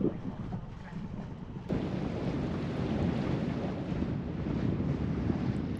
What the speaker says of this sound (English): we pulled the anchor and began carefully motoring between the coral and out the pass.